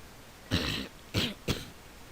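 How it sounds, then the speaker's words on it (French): Three separate coughs from someone who is ill, played during a Pokémon Black 2 game session: a strong burst, a second one, then a shorter third, close and fairly clear, with no talking. "Désolé si je tousse un peu, c'est que je suis malade."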